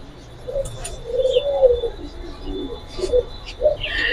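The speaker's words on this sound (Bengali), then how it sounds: "আমরা যদি একটু নিচের খাঁচায় যাই সেখানে কিন্তু অনেক কবুতর আছে" Giribaz and racing pigeons kept in cages coo softly and repeatedly, low throaty calls overlapping at close range, with a few brief chirps and rustles in between.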